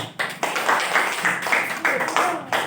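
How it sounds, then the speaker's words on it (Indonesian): Short bursts of clapping from a classroom group of students, uneven rhythmic claps at close range with a brief gap in between. "Tepuk tangan."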